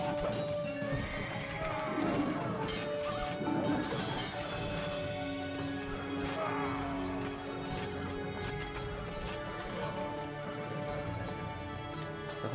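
Mounted horse archers in Age of Empires: Definitive Edition, with steady clip-clopping hooves and repeated whinnies over a busy battle bed of faint clinks and crashes, lasting throughout at moderate volume.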